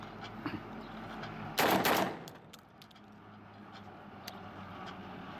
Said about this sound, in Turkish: iki atış yapıyorum